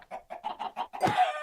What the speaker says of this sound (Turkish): Chicken will spawn.